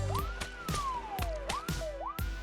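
A police car siren in a zombie survival video game, wailing in rising and falling sweeps, loud and close, with sharp periodic bursts cutting through.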